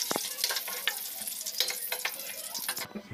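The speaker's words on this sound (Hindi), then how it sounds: "इसी में हम अंडा फ्राई कर लेते हैं।" Eggs frying in hot oil in a kadhai, a steady close sizzle with crackling bursts and occasional stirring scrapes, ending abruptly near the finish.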